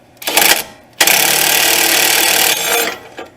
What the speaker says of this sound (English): I got a 17mm wrench on it with a 3/8 impact, and I'm just going to go ahead and run this out the rest of the way